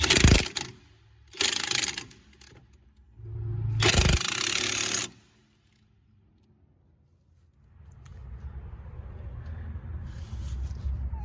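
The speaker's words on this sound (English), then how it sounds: "Now we're gonna use a 22 millimeter to tie the sway bar link." A 22 millimeter wrench tightens a sway bar link on a 2007 Dodge Charger R/T during suspension work, giving three bursts of close ratcheting and metal clatter. Quieter shuffling and background noise follow, with no talking.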